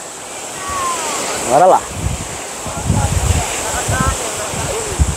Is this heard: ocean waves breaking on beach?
yes